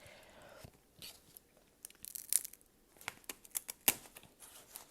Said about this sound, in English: Let's get into these crab legs.